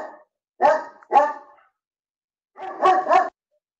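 Puppy barking nearby in bursts during a remote commission meeting: two quick yappy barks, a pause, then two more, loud and clear against otherwise silent background, no talk.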